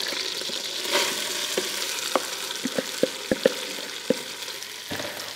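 Vegetables sauté gently in melted butter for a béchamel sauce, with a soft continuous sizzle broken by several sharp clicks and knocks of a utensil against the pan, heard close with no talking.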